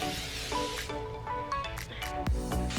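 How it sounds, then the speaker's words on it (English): Hairspray hisses from an aerosol can onto a hair bun in short bursts that overlap, close and fairly soft, with faint rustling in between. "So I'm just going to spray the bun."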